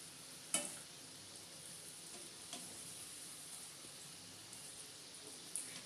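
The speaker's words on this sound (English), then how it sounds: "Keep frying and keep turning the donuts on medium-high flame to get that crispy brown color from the outside." Eggless donuts fry in hot oil over a medium-high flame with a faint, steady sizzle, broken by a few small clicks and taps.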